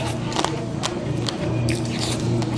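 Someone biting into and chewing Korean marinated crab at a charcoal galbi restaurant in Jeonju, wet crunches and squishy chewing close to the microphone over faint room noise.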